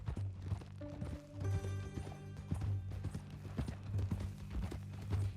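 Horse hooves clip-clop steadily in the Red Dead Redemption 2 video game, a rhythmic run of hoofbeats heard over a sustained musical score throughout.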